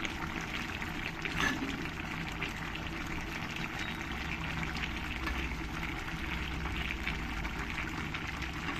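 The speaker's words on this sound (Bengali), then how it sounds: "এবার এই এঁচোড়ের মধ্যে চিংড়িগুলো দিয়ে দেবো।" Fried prawns go into jackfruit cooking in a pan, raising a steady, close sizzle with a brief splashy clatter as they land, with no talk.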